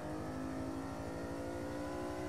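A Fiat Dino with a Ferrari engine drives in the racing game Forza Horizon 5, a steady, fairly loud engine drone with a throbbing low rumble held at constant revs.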